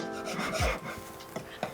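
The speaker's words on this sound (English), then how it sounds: "Now he's going in for some final touches to put the groove in with the file." A hand file rasps across a wooden jewelry bench pin, cutting a groove in a few short scraping strokes, close and fairly quiet.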